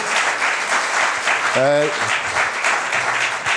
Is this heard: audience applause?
yes